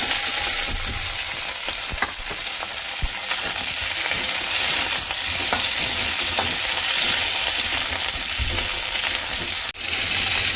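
Potato pieces frying with ground coriander, cumin and ginger paste in a pan: a loud constant sizzle with frequent scraping and clinking of a spatula stirring, close up and without talk.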